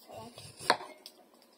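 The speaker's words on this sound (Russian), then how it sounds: "Он не дает мне резать огурцы." Knife chopping cucumbers on a board in a home kitchen during a family birthday meal prep, with a few light cuts and one sharp, louder chop near the middle.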